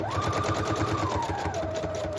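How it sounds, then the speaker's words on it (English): A sewing machine runs a steady zigzag stitch through a handmade paper pouch made from scraps, with an even, rapid mechanical chatter sounding close and continuous with no talk over it. "now I'm going to take this to my sewing machine. I'll bring you with. I'm just using a zigzag stitch."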